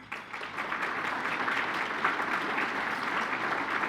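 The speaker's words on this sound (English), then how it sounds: "feel free to be able to applaud after each one" Audience applause at the Wilkes County Hall of Fame Gala, with steady clapping sustained at moderate level across the whole stretch and no voices on top.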